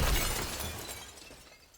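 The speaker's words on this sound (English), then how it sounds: "glass shattered." Glass shatters as a window breaks somewhere inside a house: a loud, sharp crash up front that fades out over the next second or two, with no voices.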